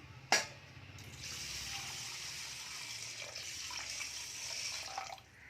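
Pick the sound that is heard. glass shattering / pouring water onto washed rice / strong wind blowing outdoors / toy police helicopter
pouring water onto washed rice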